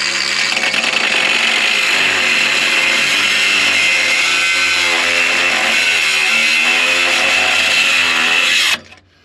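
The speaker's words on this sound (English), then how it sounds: "now chop this one through to the original pipe" A power tool saws steadily through the exhaust pipe on a 1968 Ford Thunderbird with a 429 Thunderjet big-block V8, a loud, sustained high-pitched whine lasting several seconds before cutting off abruptly.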